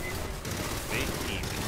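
Rapid gunfire in the co-op video game Aliens Fireteam Elite, a dense, continuous clatter of shots with faint voices mixed under it.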